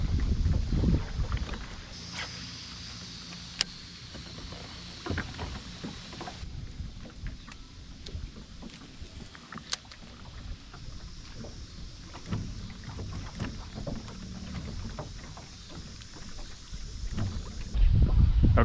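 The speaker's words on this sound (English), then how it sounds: "the wind's pretty bad over here" Wind blowing across a lake around a small fishing boat, a steady breathy rush and buffeting on the microphone with occasional hull knocks and clicks, heard alone without speech.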